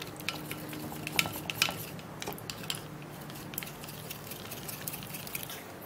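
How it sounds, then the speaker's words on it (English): Under-eye treatment being mixed in a bowl, with quiet scraping and clinking of a utensil against the dish in small irregular bursts at close range, no voices. "So you have to mix it really well."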